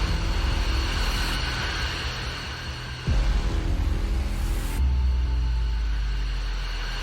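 An airplane comes in low to land in the video game Tourist Bus Simulator: a broad roaring wash of engine noise that shifts abruptly partway through and settles into a deeper rumble toward the end.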